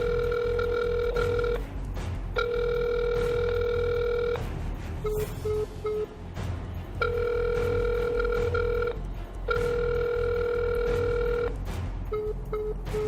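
A telephone ringing through a redial, sounding repeated steady electronic ring bursts of about two seconds separated by short pauses, with brief short beeps between some rings, fairly loud and without talk.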